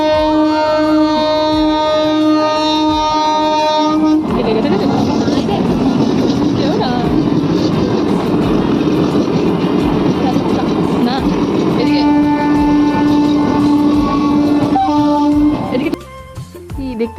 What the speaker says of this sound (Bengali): অনেকক্ষণ দাঁড়ানোর পর এখন ট্রেন আসছে